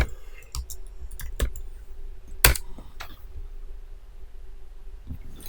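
Typing on a computer keyboard, a few sparse, distinct key clicks and taps close by, with one sharper strike near the middle over a quiet, faintly humming background.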